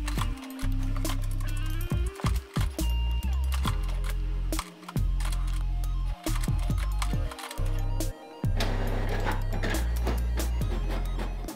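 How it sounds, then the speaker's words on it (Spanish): An HP Ink Tank printer runs a cleaning cycle and prints a test page, with rapid mechanical clicks, ticks and whirring motor bursts in an uneven rhythm, close and fairly loud with brief pauses between runs. "automáticamente la impresora va a imprimir la página de prueba"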